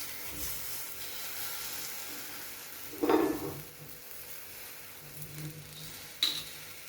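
Sausages in a dry pan on a gas hob, before any oil goes in, give a faint continuous sizzle, with a louder scrape of turning or stirring midway and a small clink near the end.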